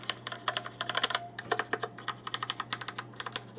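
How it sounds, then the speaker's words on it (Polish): Quick, crisp clicking of a Rapoo V500 compact mechanical keyboard being typed on nearby, in an uneven rapid rhythm with a low steady hum underneath. "klawiatura jak słyszycie wydaje specyficzne takie mechaniczne dźwięki"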